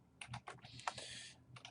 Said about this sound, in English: I should not be typing at the same time